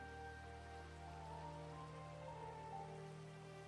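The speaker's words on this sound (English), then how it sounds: "the sounds of the rain. I like that." Soft, steady rain from Minecraft patters faintly in the background, a continuous gentle wash with low tonal hum running underneath and no speech.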